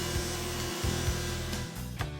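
Table saw blade cutting a cove profile into a wooden molding board, a steady buzzing whine with rhythmic dips as the stock is fed across the blade, close and alone.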